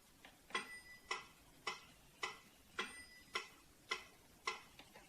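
A steady metronome ticking at an even tempo, crisp clicks about every half second, clear and isolated with nothing else around them.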